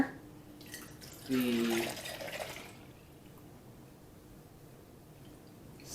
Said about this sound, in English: So I'm going to strain with my big strainer here